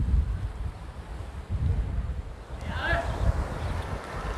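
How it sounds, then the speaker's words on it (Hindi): Strong wind gusts buffet the microphone beside the Ravi River, a rough low rushing that swells and fades in waves, with a brief faint higher whine partway through. "हवा काफ़ी तेज़ चल रही है"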